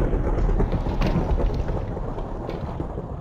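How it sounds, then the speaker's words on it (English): A dense, continuous rumbling roar of thunder with rain from a Minecraft storm, loud and steady throughout with no break. "That is a lot of lightning."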